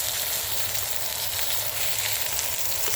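Steak sizzling in a hot cast iron skillet over an outdoor fire in the woods, a steady, close, crackling hiss that stays even and loud throughout with no talking.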